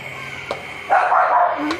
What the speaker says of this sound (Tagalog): tumatahol yung aso